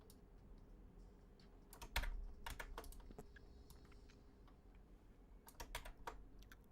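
Squeaky computer keyboard typed on at a desk, scattered bursts of sharp key clicks with small squeaks in between, a cluster near the start and another toward the end, close and fairly quiet.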